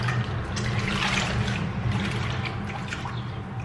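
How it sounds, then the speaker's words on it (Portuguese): Kitchen items are rinsed in a basin of water with vinegar, giving a steady close-up sloshing and trickling with small splashes throughout. "agora vou passar ali naquela água com vinagre para desinfetar."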